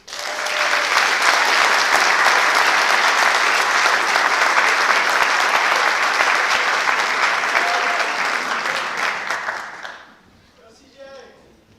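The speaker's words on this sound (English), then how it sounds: "Have a round of applause for our Titan Award recipients." A high school audience at an honors convocation applauds Titan Award recipients with sustained, loud, dense clapping for about ten seconds before it fades out quickly.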